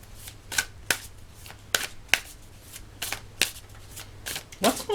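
Soul Mirror Oracle cards shuffled in a run of crisp riffling bursts, about a dozen close, sharp flicks spaced unevenly with a faint steady hum beneath.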